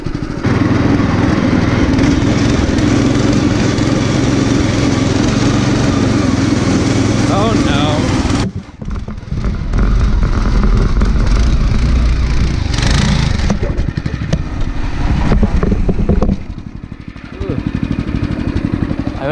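The small engine of a motorized lawn chair with a belt clutch revs loudly and close, buzzing steadily, then dips briefly and surges again, while someone talks over it.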